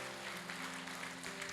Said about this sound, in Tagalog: Bigay po natin ang pinakamalakas na palakpak sa ating Panginoon Diyos.